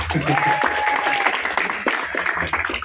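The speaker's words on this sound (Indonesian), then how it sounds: "Tepuk tangan buat Kak Arul" Audience applause at an Indonesian film discussion event, a dense, steady wash of clapping from a room of people, with a brief high tone ringing through the first part.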